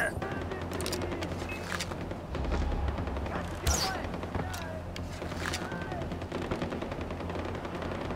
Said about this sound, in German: Ich stehe unter Beschuss.